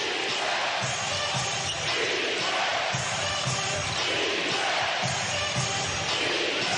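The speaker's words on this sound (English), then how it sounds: "Sellout crowd on their feet" A sellout basketball arena crowd roars and cheers continuously during an Oklahoma City game, a dense, steady wall of noise with faint court sounds and bouncing beneath it.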